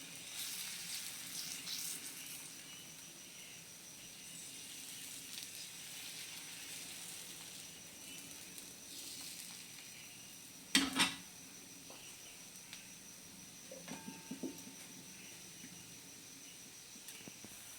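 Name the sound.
batter frying in hot oil for patishapta pitha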